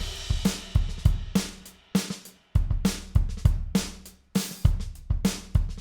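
Close, punchy Brooklyn electronic drum kit in GarageBand plays a repeating groove, deep kick hits and bright snare cracks with splashy cymbal tails, steady tempo, nothing else heard.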